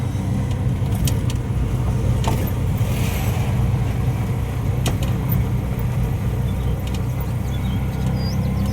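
An auto rickshaw engine drones steadily as it climbs uphill in a low gear, loaded with boxes of mangoes. The low hum is loud and constant throughout, with faint rattles and no voices.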